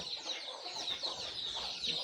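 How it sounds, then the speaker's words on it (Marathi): A flock of village hens with chicks in a small farm setup keeps up a dense, even stream of high peeping and clucking, moderately loud and with no voices. "सगळे गावचे कोंबडे आणि त्यांची पिल्ल आहे"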